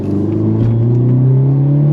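A 2023 Hyundai Elantra N engine revs under throttle, its loud, steady drone climbing gradually in pitch, heard alone without talk.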